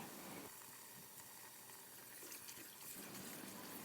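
Tap water runs steadily over chopped mustard greens being washed in a sink, a continuous broadband rush with slight shifts in flow, heard alone without talk.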